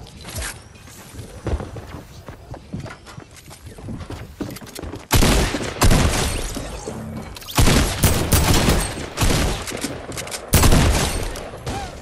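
Bursts of tactical assault rifle fire in a Fortnite Battle Royale match, loud close volleys repeating in clusters with short gaps and faint footsteps between, no talking.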